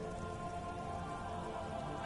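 Steady rain falls in the video game Disco Elysium, a dense, even hiss of drops that stays constant and close for the whole stretch, with no voices.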